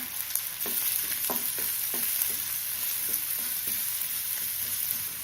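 Onions sizzle steadily in hot oil, with a spoon or spatula scraping and stirring the pan in irregular strokes.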